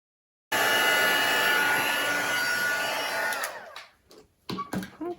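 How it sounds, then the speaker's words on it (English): An electric heat tool blows steadily, melting embossing powder on a handmade Christmas card. The loud, even whoosh starts abruptly, runs for about three seconds, then winds down and is followed by a few handling knocks. "I'm going to grab my heat tool. Go ahead and get this embossed."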